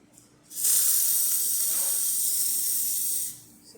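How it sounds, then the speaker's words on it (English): An Elektra espresso machine's steam wand hisses for about three seconds, a loud, close, steady rush of steam that cuts in abruptly and tapers off at the end. "and then I'll show you the steam"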